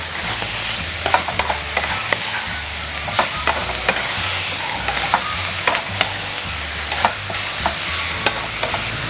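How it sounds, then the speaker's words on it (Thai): Pork belly stir-frying with salt and sugar in a hot pan, giving a steady sizzle with repeated scraping and stirring clicks from the spatula close by, and no talking. "ใส่เกลือค่ะตามด้วยน้ำตาลทรายนะคะผัดให้เข้ากันค่ะ"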